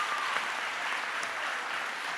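An audience clapping at a 2019 Fort Pierce Westwood High School graduation ceremony, a dense, steady wash of applause from a large crowd in a big hall.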